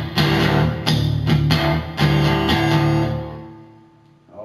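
Distorted electric guitar plays a riff from a song, mixing palm-muted chugs with open strikes on the bottom three strings; several chord hits ring, then the sound decays to near quiet.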